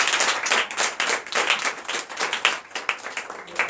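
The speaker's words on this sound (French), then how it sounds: "Donnez de vivre acclamation à notre Seigneur Jésus." A church congregation at a night deliverance service in Benin claps in a rhythmic, pulsing burst, close and lively, with hand claps landing in quick repeated waves throughout.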